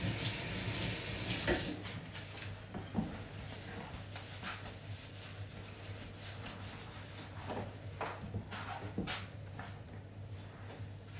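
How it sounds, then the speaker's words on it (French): Soap rinsed off gloved hands under a running tap, a continuous splashing water flow with uneven bursts and a steady low hum beneath, close and without talk. "je vais me rincer le savon que j'ai sur les gants"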